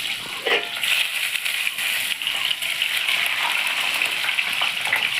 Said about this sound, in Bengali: তেলের মধ্যেই আমি ডিমগুলোকে ছেড়ে দিচ্ছি।